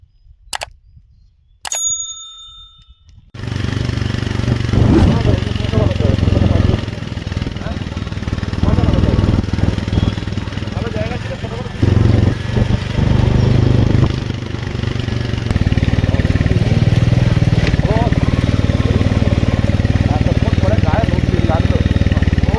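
A motorcycle engine idles steadily in a scenic rural spot in Bijanbari, Darjeeling, after a few sharp bell-like tones; the close, continuous rumble runs for about twenty seconds.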